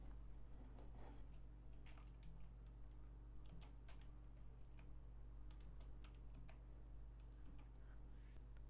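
Quiet computer keyboard typing an IP address for a DNS server, with scattered light key clicks and taps over a steady low hum, no voices.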